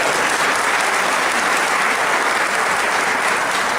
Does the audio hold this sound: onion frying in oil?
no